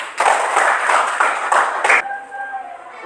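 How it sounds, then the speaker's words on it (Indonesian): Classroom applause, a short burst of many hands clapping together for about two seconds, then stopping abruptly as a faint ringing tone lingers. "Sekali lagi tepuk tangan."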